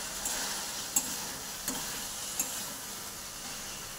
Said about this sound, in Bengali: খুব তেল ছিটকাচ্ছে আজকে।